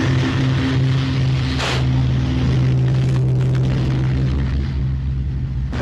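A Hawker Sea Fury launches by catapult from a ship, its piston engine droning steadily and loudly amid wind and sea noise, with a brief whooshing burst partway through.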